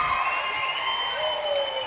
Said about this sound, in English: The crowd is getting rowdy out here. It's nice and loud.